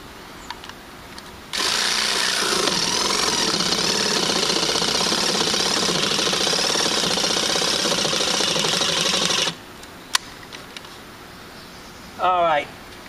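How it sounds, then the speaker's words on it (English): Battery-powered saw cutting into a rotten wooden bench, a loud, steady buzzing burst lasting about eight seconds, then stopping, with brief clicks and a short whirr afterward. "So I just wanted to demonstrate this saw"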